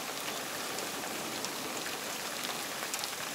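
Heavy rain hisses steadily and evenly beside a creek running over its banks, fairly faint and without voices.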